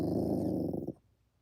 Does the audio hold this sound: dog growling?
yes